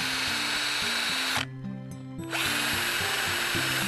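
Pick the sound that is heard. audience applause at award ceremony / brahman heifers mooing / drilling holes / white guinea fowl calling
drilling holes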